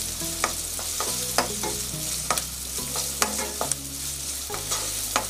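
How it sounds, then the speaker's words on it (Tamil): Chopped onion sautés in a pan for gobi manchurian, giving a steady close sizzle punctuated by regular scraping and clanking strokes of a spoon roughly every second, with no talking. "வெங்காயம் நல்லா ப்ரௌன் கலர் ஆகுவதையும் நல்லா நம்ம வதக்கணும்."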